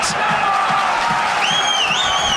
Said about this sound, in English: crowd getting behind the team now